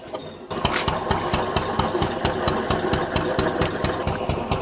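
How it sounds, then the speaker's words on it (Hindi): A diesel tubewell pump engine irrigating a radish field starts up and then runs at a steady rapid thumping idle, close and loud, with even mechanical knocking beats and no voices. "इसी से सारा खेत सिंचाई होता है, ट्यूबवेल है ये।"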